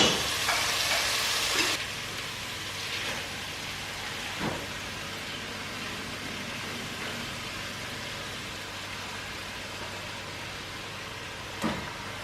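Two pounds of hamburger meat and a pound of sweet Italian sausage fry in a pan with onions and lots of garlic, a steady soft sizzle with a louder burst at the start and a few clicks of stirring.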